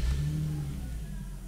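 A 2015 Nissan 370Z sports car engine cranks and catches, a loud low burst in the first fraction of a second settling into a steady idle rumble, close by and with no talk.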